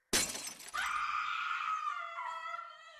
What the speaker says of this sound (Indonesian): Vita berteriak, tak sengaja menjatuhkan gelasnya hingga pecah